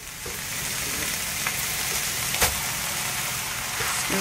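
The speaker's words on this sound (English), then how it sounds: "We're going to throw all that in now. Stir that up a bit" Diced onions, peas and carrots frying in a hot pan for prawn and egg fried rice with bacon, a loud continuous sizzle with occasional scrapes and clicks of stirring.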